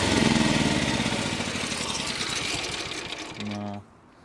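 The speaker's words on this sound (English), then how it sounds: "Now the generator won't start." A small generator engine cranks and sputters rapidly for a few seconds, briefly revs, then cuts out abruptly into silence, failing to start.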